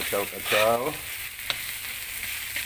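Fish fries in chili sauce while being stirred, a bright sizzle with scraping strokes and one sharp knock midway.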